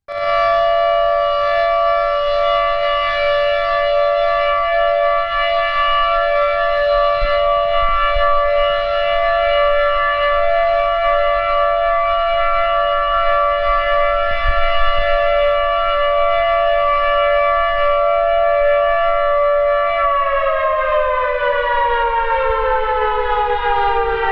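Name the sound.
civil defense siren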